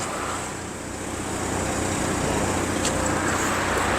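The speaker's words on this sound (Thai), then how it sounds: "ฟังเสียงเครื่องนี่สตาร์ทแล้วนะนี่" A Honda City 1.5 VTEC with automatic transmission idles steadily at close range, a continuous low engine hum with faint road noise and no speech.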